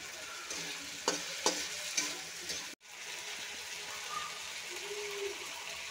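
Green peas frying with salt, ginger paste and green chillies for a chana dal dish, a continuous hiss of sizzling oil with a few spoon clacks early on and a brief break partway through, with no talking.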